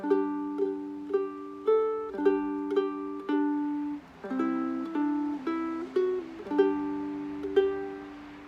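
Plucked ukulele chords with the Good King Wenceslas melody on top, each strum ringing and decaying in a steady rhythm, played alone and close.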